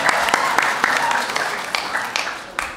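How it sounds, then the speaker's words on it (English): Comic con panel audience applauding, loud close clapping with distinct sharp claps over a crowd wash, a voice briefly audible under it as it gradually tapers. "give yourself a round of applause"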